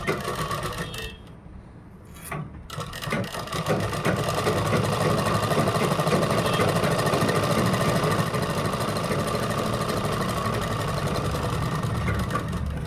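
A sewing machine runs a seam on a kurta, its motor whirring steadily and closely for about ten seconds after a few brief starts and handling sounds.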